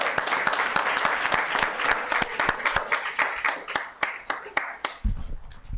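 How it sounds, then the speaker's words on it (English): An audience at a town council meeting applauds, with sharp individual claps ringing out steadily, then thinning and tapering off near the end. "Another round of applause, please, for yes."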